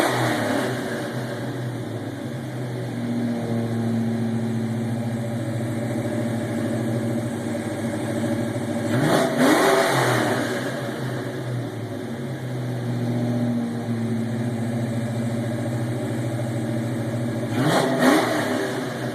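A 1993 Ford Mustang LX with a custom cam and ported intake, heard from inside the cabin with the windows down in a garage, idles with a steady lope and is revved sharply twice, each rev rising and then dropping back to idle.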